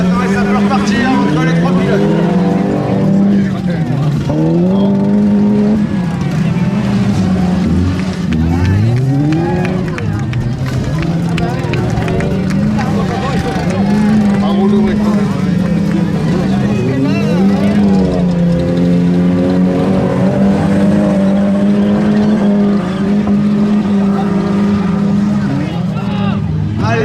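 Super Stock-car race cars racing at a Seine-et-Marne grand prix, engines roaring and swooping in pitch as they accelerate, brake and pass, loud and continuous beneath a commentator speaking over a public address.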